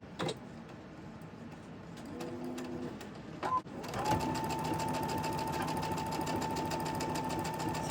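Sewing machine stitching fabric, starting with a few short ticking bursts and then running steadily with a fast, even mechanical chatter and hum, faint and close.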